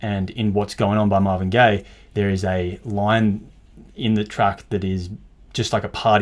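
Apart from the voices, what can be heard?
No everyday noise stands out behind the speech.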